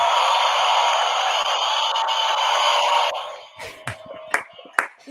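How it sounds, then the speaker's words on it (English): Steady applause from a conference audience fills the first three seconds, then thins into a few scattered claps and taps that fade out. "I'll do my applause"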